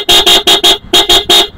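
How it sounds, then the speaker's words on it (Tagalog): A motorcycle horn on a QJMotor ATR160 Adventure blares in short repeated bursts, four quick honks, a brief pause, then three more, close and piercing. "Sa busina naman, ito yung Pia horn natin."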